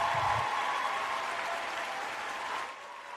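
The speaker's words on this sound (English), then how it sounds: "Let's give you a round of applause." Studio applause welcomes a guest on a wrestling talk show, a steady, fairly soft round of clapping from a small audience that tapers off near the end.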